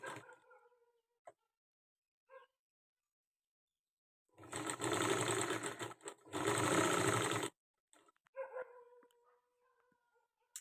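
A sewing machine stitches a single line of thread piping along a blouse edge in two loud, sustained bursts of rapid mechanical whirring, separated by a short pause, with quiet gaps and faint sounds on either side.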